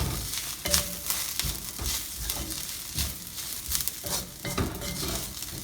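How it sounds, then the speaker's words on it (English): Onion and coconut mixture for a crab masala sizzles in a pan while a spoon scrapes and knocks against the metal, a continuous close frying hiss broken by irregular stirring clatters, with no talking. "added the coconut as well in the onion mixture. So let's saute this and cook"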